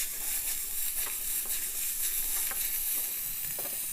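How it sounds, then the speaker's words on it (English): Onions sweating in a pan over medium heat give a steady, even sizzle with a faint hiss, plus a few soft stirring scrapes and no voices. "I'm gonna have the onions to sweat them"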